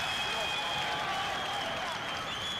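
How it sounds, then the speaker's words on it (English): Spectators at a Purdue–Rutgers college wrestling dual meet applaud and cheer steadily for wrestler Billy Janser. The crowd noise forms a continuous, full wash of sound with voices blended in. "Crowd trying to cheer on Billy Janser."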